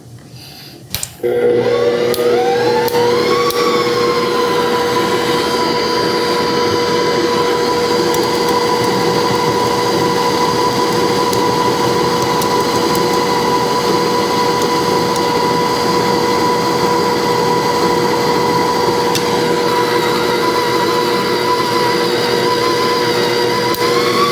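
An Aucma 6.5-quart, 660-watt tilt-head stand mixer with a paddle mixes flour dough. It switches on abruptly after a second, winds up in pitch, then holds a loud, steady, close motor whir for over twenty seconds.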